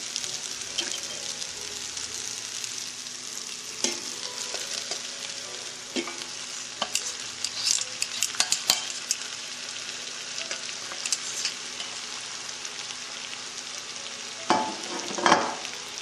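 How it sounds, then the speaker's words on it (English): Warm tomatoes tossed into pasta and broccoli in a hot pan, a continuous sizzle with scattered stirring clicks and a louder scraping burst near the end, close and with no talking. "Now, our tomatoes that we have kept warm, we're going to add those."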